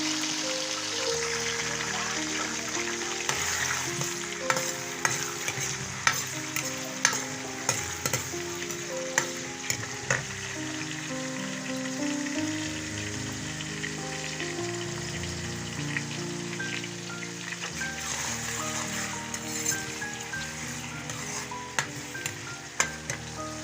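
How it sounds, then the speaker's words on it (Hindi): Chopped onions fry in hot oil in a pan for a vegetable pulao, giving a steady loud sizzle and crackle throughout, punctuated by the scrapes and clinks of stirring. "ऑयल हमारा गर्म हो गया, इसमें अब प्याज शामिल कर लें।"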